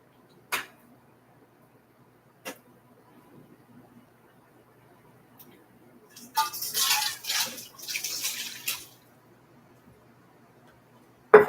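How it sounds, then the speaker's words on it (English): Water pours into a Berkey gravity water filter in a quiet room, a steady splashing stream lasting a few seconds after a couple of isolated clicks, then a sharp knock at the end. "I need to add some water to the Berkey"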